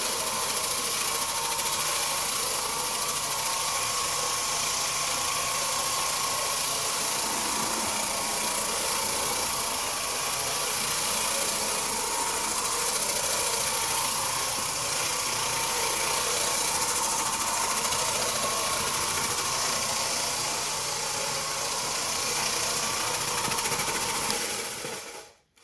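A 12-inch Oreck Orbiter floor machine running continuously nearby, a steady dense mechanical drone with a slight buzzing rattle that holds level throughout and cuts off abruptly at the end, no voices.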